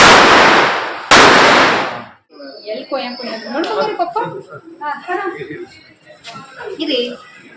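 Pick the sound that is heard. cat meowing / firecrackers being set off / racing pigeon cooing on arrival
firecrackers being set off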